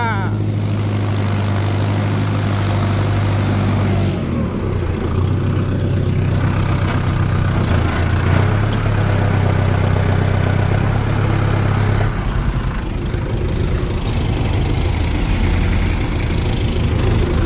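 A Mahindra Arjun Novo tractor pulling a Lemken plow in a field, its engine giving a loud, steady, close drone with a low hum that shifts pitch partway through, while someone talks over it.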